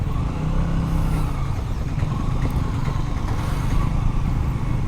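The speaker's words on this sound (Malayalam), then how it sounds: "അത്യാവശ്യം നല്ലപോലെ ട്രാഫിക് ഉണ്ട് കേട്ടോ." Dense road traffic rumbles around a rider on a 2023 KTM Duke 200 motorcycle heading to Kottayam, with a continuous loud roar of engines and tyres and no clear breaks.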